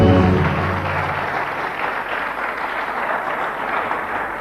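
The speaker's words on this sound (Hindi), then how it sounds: "चलिए तालियां बजा दीजिए, इसमें क्या है?" An audience applauds steadily, a dense wash of clapping that fills the room at moderate loudness and holds evenly from start to finish.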